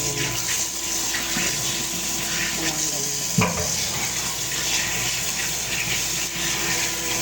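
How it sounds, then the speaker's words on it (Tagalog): Raw meat being rinsed under a running kitchen tap, a steady rush of water with faint splashing and handling noises and one sharp knock partway through, no talking. "Hugasan naman natin tong karne."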